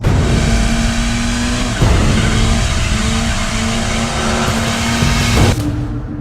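A naturally aspirated four-cylinder boxer engine in a Toyota GT86 runs loud and close, holding a steady, strained note with two brief dips, like gear shifts or lifts off the throttle, and then pulling on again.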